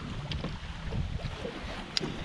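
Wind gusting across Lake Lanier in November, a steady broadband rush with low rumbling buffets and a few small knocks, heard from a boat on the water with no voices.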